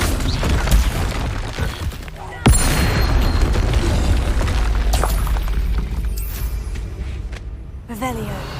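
A Bombarda explosion spell goes off in the Hogwarts Legacy video game as a loud, sudden boom that rumbles and decays for several seconds. Softer blasts and combat clatter come before and after it, and voices are heard too.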